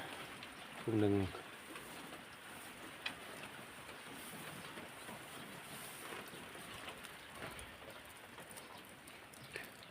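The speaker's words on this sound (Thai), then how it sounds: "ก็ได้แต่เก็บภาพบรรยากาศฝนตก" Steady rain patters and hisses throughout, with a brief voice near the start and a few sharper drops.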